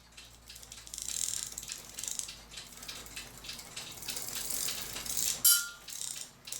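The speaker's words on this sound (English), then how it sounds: "And you can take your finger if you want and wind it, or take a screwdriver if your finger doesn't fit and bring it around." A Schmeckenbecher cuckoo clock movement being wound, giving a close, quiet run of repeated ratchet clicks and rattling gear noise, with one sharper metallic click near the end and no talking.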